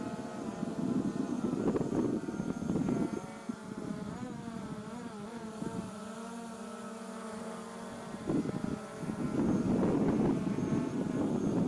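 A Hubsan Zino 2+ drone flies nearby with a steady, buzzing rotor whine and shifting pitch as it maneuvers, plus wind rumble against the microphone throughout.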